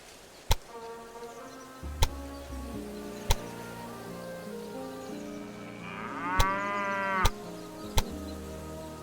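Cattle lowing at a cattle farm in the Railway Empire 2 video game, a few long drawn-out moos over soft ambient game music, punctuated by sharp periodic clicks.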